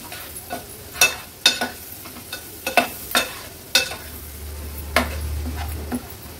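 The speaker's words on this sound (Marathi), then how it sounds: "हळद आणि मसाला तेलावर छान शिजवून घ्यायचे।" Turmeric and homemade Agri Koli masala cooking in hot oil in a pan, a low sizzle under sharp intermittent scrapes and knocks of a spoon stirring against the vessel.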